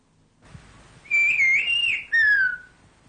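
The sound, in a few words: Pyrenean whistled language whistle, recorded at short distance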